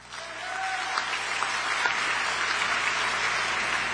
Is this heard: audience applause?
yes